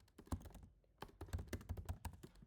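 Computer keyboard being typed on in short irregular bursts of clicky keystrokes, close and fairly quiet, with a brief pause before the typing resumes.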